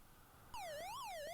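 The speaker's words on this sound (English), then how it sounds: "Alright, so it's like I'm triggering alarms." An alarm in the video game Alien starts abruptly as a wailing electronic siren sweeping up and down in pitch, sustained and moderately loud.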